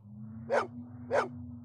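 A dog barks in the Westwood Blade Runner video game: three short, sharp barks spaced about half a second apart over a steady low electronic hum.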